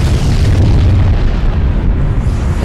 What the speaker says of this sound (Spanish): ¿Una bomba?